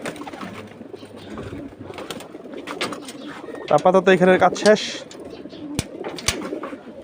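Pigeons on a rooftop coo in a short, throaty burst near the middle, close and fairly loud, while someone talks before and after.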